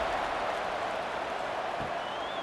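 A stadium crowd at an LSU vs Ole Miss football kickoff cheers and applauds in a continuous loud roar, with a faint whistle near the end.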